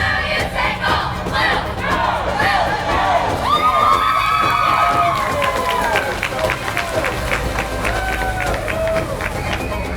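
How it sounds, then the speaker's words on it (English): Northeast Middle School Eagles cheer team chanting and shouting in unison at a veterans parade, a loud group of young voices amid crowd noise and cheering outdoors. "Coming up next, our Northeast Middle School Eagles cheer."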